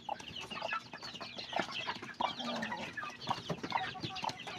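Brooding hen and chickens clucking close by in a backyard flock, busy overlapping clucks and chirps with a little rustling throughout.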